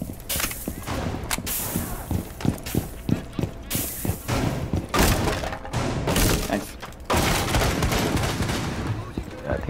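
Shotgun blasts tearing open an attic hatch in Rainbow Six Siege, a rapid series of loud booming shots and splintering thuds, with heavier impacts and crashing debris later, while players talk over the action.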